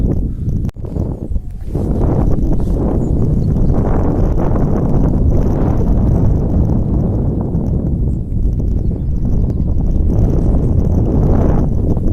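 Heavy, continuous wind buffeting the microphone, a dense low roar that never lets up, with a brief dip near the start.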